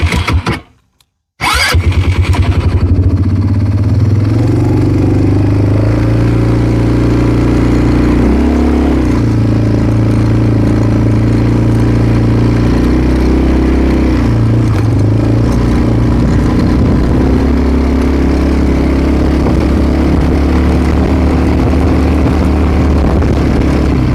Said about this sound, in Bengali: এখানে আমি একটু টপ স্পিডে রাইড করে দেখাচ্ছি। যেমন এখন ডি মোডে আছে, জাস্ট আমি অ্যাক্সেলারেশন দিলাম